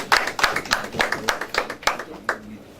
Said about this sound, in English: A round of applause again for him